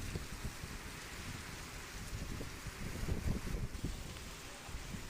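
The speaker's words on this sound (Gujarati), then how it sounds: "જેસર તાલુકામાં ભારે પવન સાથે વરસાદ। ગ્રામ્ય વિસ્તારમાં ધોધમાર વરસાદનું આગમન" Heavy rain driven by strong wind falls over coastal villages of Bhavnagar, a steady dense hiss with gusty low rumbling surges that build toward the middle, no talk.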